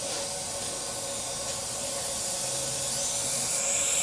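A dental water spray rinses etchant off teeth, a steady close hiss running through the whole moment.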